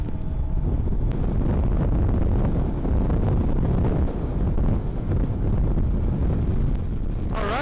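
Loud, constant wind roar buffeting the rider's microphone on an electric motorcycle cruising at highway speed through South Dakota, a dense unbroken rush filling the whole stretch with no talk.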